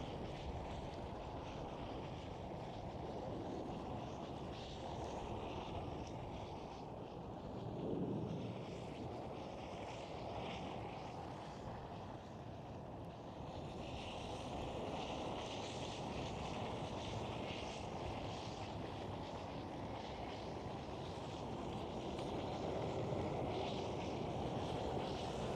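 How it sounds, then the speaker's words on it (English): A KLM Boeing 737 departing runway 24 at Amsterdam Schiphol, heard as a distant, sustained jet roar that swells and fades slowly, mixed with wind buffeting the microphone outdoors. "So right here is one of the departures, 737. Looks like KLM. And it was a departure from runway 24"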